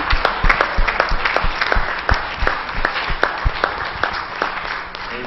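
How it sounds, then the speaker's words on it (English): A church congregation at a Pentecostal service claps in a steady rhythmic beat, sharp overlapping hand claps filling the room for several seconds with no talking. "Give him another hand clap of praise today."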